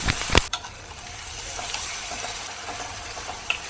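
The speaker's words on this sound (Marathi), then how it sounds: "थोडंसं मीठ टाकून घ्यायचं आता परतून घेऊया" Onion and tomato sauté in hot oil with a pinch of salt, giving a steady, soft sizzle. A brief clatter of stirring comes near the start, and no one speaks.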